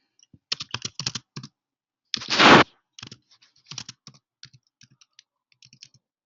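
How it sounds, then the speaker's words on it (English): Someone types a presenter's name or keywords into a search field on a computer keyboard: quick bursts of close, crisp keystrokes with one louder rustling burst partway through and no talking. "typing either presenter's name or keywords from the webinar title"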